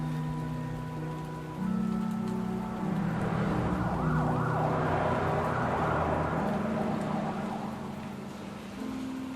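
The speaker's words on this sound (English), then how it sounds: "I'm being rained on!" Steady rain pours in the Batman: The Telltale Series video game, a continuous wash of noise layered with a rising, wavering siren and tonal score, with no talk.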